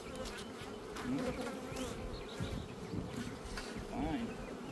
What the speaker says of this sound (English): Okay, the bees are swarming now